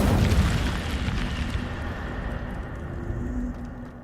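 The Incendio fire spell cast in Hogwarts Legacy: a loud, rushing fiery burst with a deep rumble that slowly fades over a few seconds, close and without talk.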